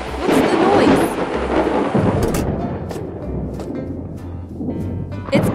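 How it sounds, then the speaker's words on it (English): Cartoon thunderstorm on a farm with rain falling and loud rolling thunder crashes, a big rumble at the start and sharper cracks later, no talk heard. "Thunder and lightning ahead!"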